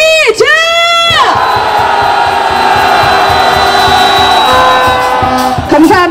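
Protest marchers on a street in Itaewon, Seoul, calling for the president's resignation, let out a sustained roar of cheering and shouting. High, swooping whistle-like cries open it, then a loud, dense crowd roar holds steady for several seconds before tapering.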